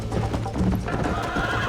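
A horse in the video game Red Dead Redemption neighs loudly while its hooves clip-clop, a near, prominent whinny over galloping steps.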